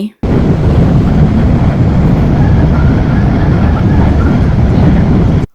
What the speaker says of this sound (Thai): รถไฟใต้ดินก็มาหอดแล้ว